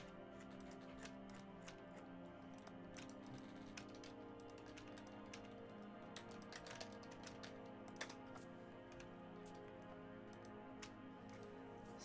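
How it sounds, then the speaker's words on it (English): Fingers tap steadily on a computer keyboard during a video game session, giving quiet, irregular clicks over a faint continuous background. "Look at all this co-op typing we're doing."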